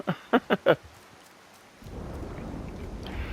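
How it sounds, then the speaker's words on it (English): Rain in the video game Disney Dreamlight Valley: three loud, sharp thumps come first, then after a short quiet gap a steady, soft hiss of rainfall settles in and runs to the end with no voices. "All right, I understand the rain now."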